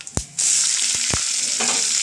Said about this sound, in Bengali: পেঁয়াজটা ভাজা ভাজা হয়ে নিই